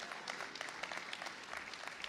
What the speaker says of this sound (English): You ought to clap your hands for the signing of this bill